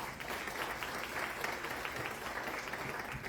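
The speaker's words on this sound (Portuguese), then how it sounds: "Uma salva de palmas para ele." Audience at a condominium management lecture applauds the president of a national association of building managers, a steady even clapping from a modest crowd, heard at a moderate distance for a few seconds.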